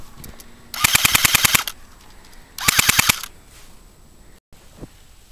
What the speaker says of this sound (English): now it's time for the test fire of the ICS L86 A2